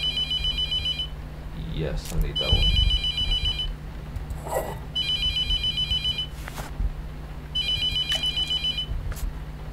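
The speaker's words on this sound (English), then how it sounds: "I'm not picking up the fucking phone." A telephone rings in The Mortuary Assistant, repeating electronic trills in regular bursts about every two seconds over a low hum, with someone talking between and over the rings.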